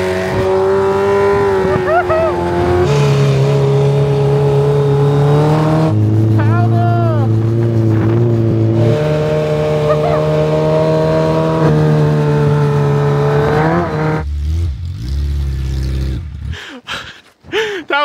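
A car drives around a frozen lake in Montana at -27 degrees, its engine droning loud and close and rising and falling in pitch as it accelerates and shifts, with people talking over it and the sound breaking up near the end.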